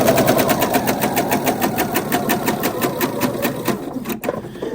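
A sewing machine runs steadily stitching shirring elastic into fabric, loud and close, with fast even needle clatter that slows and stops briefly near the end before starting again.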